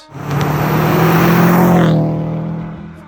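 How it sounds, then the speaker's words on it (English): Subaru car engine giving its characteristic boxer rumble, a loud, close, throaty drone that rises and swells for about two seconds and then fades away, with no talking. "The Subaru Rumble, we all know it, we all love it."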